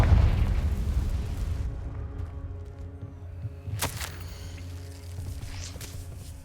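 A fiery spell explosion in the Hogwarts Legacy video game bursts once, sharp and fairly close, then fades into low ambient rumble without speech.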